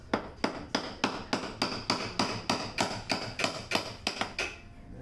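A big hammer taps a cork out of a flute headjoint with about fourteen sharp, evenly spaced metallic strikes, close and clear with no talking.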